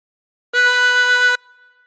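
One held draw note breathed in through hole 16 of a 24-hole tremolo harmonica, a bright, reedy tone sustained for nearly a second before stopping cleanly, leaving a soft fading residue; no voices.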